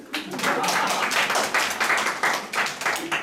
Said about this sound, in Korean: 연구에게 박수!